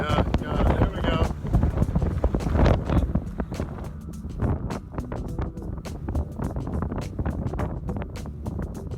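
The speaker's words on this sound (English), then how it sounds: "Yeah, it's windy. It's ridiculous." Strong gusty wind on the Oregon coast buffets the microphone, a loud broadband roar rising and falling, with voices talking intermittently underneath.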